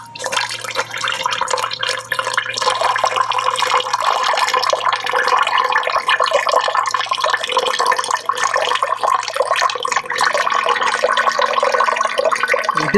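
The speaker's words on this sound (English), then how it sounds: "I take this coffee with no grounds in it, and I'm going to pour it in the bag" Filtered coffee with no grounds poured from a container into an enema bag, a continuous liquid stream splashing and trickling up close, with no talk.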